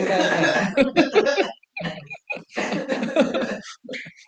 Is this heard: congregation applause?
no